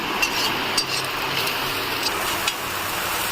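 Chow mein stirred and fried in a pan makes a steady, loud sizzle, with a few light clanks from the utensil against the pan scattered through it.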